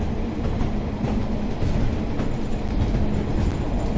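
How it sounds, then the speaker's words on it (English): British Rail Class 142 Pacer diesel mechanical multiple unit in provincial blue livery, simulated on the Blackpool branches, rumbling steadily with continuous low engine drone and track noise, loud and close throughout with no talk. "This train is the British Rail Class 142 diesel mechanical multiple unit in the provincial blue livery."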